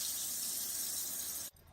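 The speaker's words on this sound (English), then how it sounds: "Make sure that your water pump is on and simply open the faucet." Water runs steadily from a campervan sink faucet fed by the water pump, a soft hissing stream that stops abruptly near the end.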